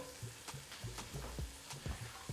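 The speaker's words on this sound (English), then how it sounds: "You hear that sizzle?" Sliced leeks and carrots sizzle and crackle steadily in a hot pan, with a few soft stirring knocks and scrapes mixed in, close and fairly loud.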